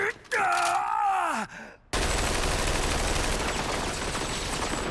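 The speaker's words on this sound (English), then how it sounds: "that was like 100 fucking bullets" A hail of anime gunfire from Bungo Stray Dogs, a sudden dense burst of rapid shots that erupts after a strained, wavering vocal groan and a brief pause, then continues loud and unbroken to the end.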